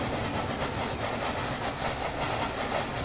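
A train rolls along the rails in Transport Fever, set in a UK branch-line network, giving a steady, dense rumble with faint rhythmic clatter that holds at an even level throughout, with no voices.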